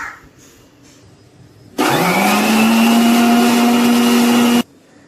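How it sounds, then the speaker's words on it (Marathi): An electric kitchen mixer whips oil and water into batter for crispy besan shev, a loud, steady motor whine that starts abruptly, runs for about three seconds and then cuts off, with no talk over it. "आणि आता हे आपल्याला फेटून घ्यायचं मिक्सरला"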